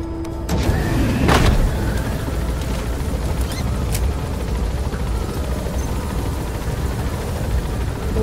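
A helicopter in the video game Metal Gear Solid V: The Phantom Pain, a loud, continuous rotor and engine drone with a few sharp bursts early on, playing alone without talk.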